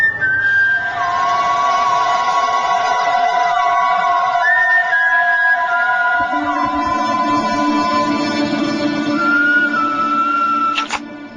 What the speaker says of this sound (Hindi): क्योंकि आप सीटी बहुत बढ़िया बजाते हो